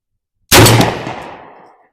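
One loud gunshot from a restored Browning Auto-5 shotgun at an outdoor range cracks sharply after a moment of silence, then rolls away in a long fading echo.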